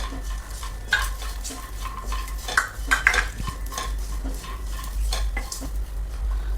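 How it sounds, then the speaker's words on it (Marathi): Peanuts being stirred and roasted in oil, repeated scraping and rattling of nuts against the pan with a light sizzle underneath, close and rhythmic, several sharper clinks near the middle, no talking. "आता ह्यामध्येच आपल्याला शेंगदाणे घालायचे म्हणजे शेंगदाणे पण थोडेसे भाजून निघायला हवेत"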